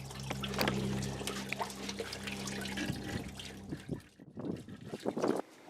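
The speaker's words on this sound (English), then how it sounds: "and then it comes out of that petcock right there. Well, I'll just let it drain." Coolant draining from the radiator petcock of a W140 Mercedes-Benz S-Class, a steady close trickling pour over a low engine-bay hum, turning into irregular splashy dribbles near the end; no one speaks.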